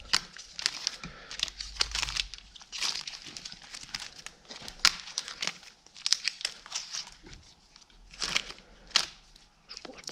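Adhesive tape crackles and tears in repeated close bursts as it is peeled and crumpled off an old Stihl 08S chainsaw, with rustling between the pulls.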